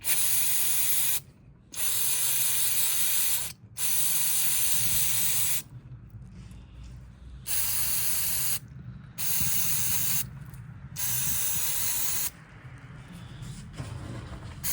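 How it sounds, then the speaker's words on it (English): Several long bursts of aerosol spray hissing from a can, separated by short pauses, close and loud. "Spray it liberally."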